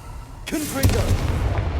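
Confringo explosive spell in Hogwarts Legacy, a sudden fiery burst with a booming impact that follows soon after, with a voice heard alongside it.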